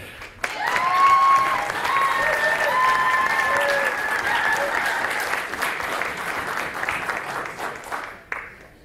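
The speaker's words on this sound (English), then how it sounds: "I'd like to thank my rowdy colleagues here for the applause" Sustained audience applause at an awards ceremony for top hospital marketers, a dense crowd of clapping that swells early, holds steady for several seconds, then thins out with a few cheers and whoops over it.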